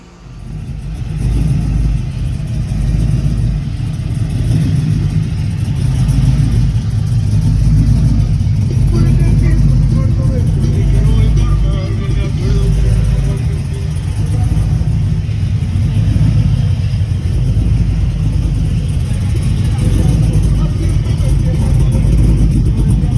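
An LS-swapped Chevrolet C1500 truck with a 3-inch exhaust rumbles deep and loud up close, holding a steady throaty idle with revving swells, faint voices now and then beneath the engine.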